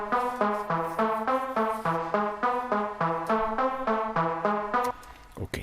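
A dry synthesizer with no flanger applied plays a steady repeating pattern of bright, harmonically rich notes at a moderate even tempo, fading out near the end, with no talking over it.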